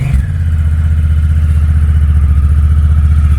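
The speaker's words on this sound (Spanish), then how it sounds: "arranca la moto" A motorcycle engine starts and settles into a loud, steady, throbbing idle close by.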